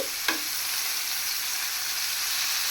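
Small puti fish fry in a pan with a constant, moderately loud sizzle; a brief scrape early on marks a piece being flipped, then the frying hiss carries on evenly.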